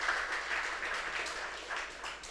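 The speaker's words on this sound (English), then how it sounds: "I think he deserves a round of applause for that." A conference audience applauds continuously, dense clapping at moderate distance that swells and eases slightly over a couple of seconds.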